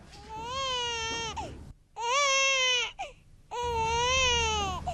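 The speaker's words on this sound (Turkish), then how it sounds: "Sizin bebek ağlaması duyuyor musunuz çocuklar?" Baby crying in three long wailing bursts separated by short breaths, loud, close and strained with a rising and falling pitch, no talking during the cries.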